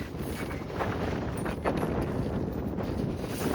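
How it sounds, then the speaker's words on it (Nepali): Strong wind gusts across open ground at Dumba Lake, a loud, continuous roar buffeting the microphone with no break. "हावा चाहिँ फेरि खत्रै स्वाट चलिरहेको छ अहिले"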